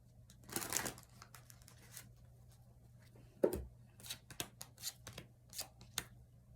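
Soft, quiet riffling and slapping of tarot cards being shuffled, in several short bursts close by with pauses between.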